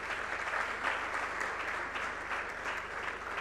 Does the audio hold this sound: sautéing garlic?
no